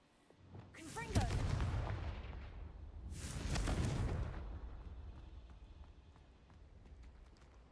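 Two big whooshing blasts from the Confringo explosion spell in Hogwarts Legacy, each swelling and rumbling for about a second or two before fading, faint and distant, with a quieter tail afterward.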